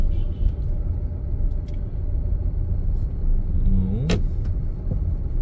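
A car creeping slowly on the clutch through a narrow street, giving a steady low engine rumble close by, with a brief rising squeal or whine partway through.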